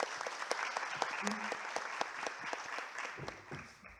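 Steady applause from a conference audience welcomes a speaker at an academic meeting, with scattered claps continuing for four seconds and a speaker's voice faint underneath.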